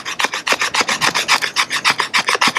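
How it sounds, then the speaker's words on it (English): A Varusteleka Terava puukko knife spine scraped along wood, about a dozen rhythmic rasping strokes in quick even succession, close and loud, with no talking. "we'll try a little scraping just to see if it does allow it to still scrape"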